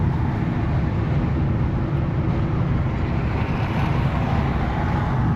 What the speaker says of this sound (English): Luckily, when you're driving a Volkswagen Beetle, people give you slack for going slow.